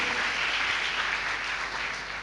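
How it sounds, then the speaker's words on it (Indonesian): A church congregation gives a sustained round of applause during a sermon, with even, moderately distant clapping from many hands that fades slightly toward the end. "Berikan tepuk tangan yang meriah bagi Yesus, bagi kasih Yesus"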